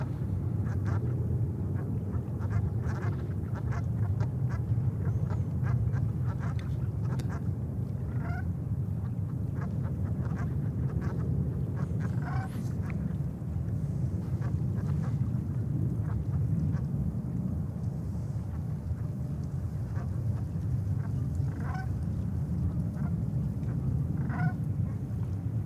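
Geese honk repeatedly in short bursts over a steady low rumble of airport and engine noise near a New York JFK runway, with no talk.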